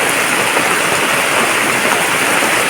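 Heavy downpour on a small hut, a loud dense steady hiss of rain with no breaks and no voices.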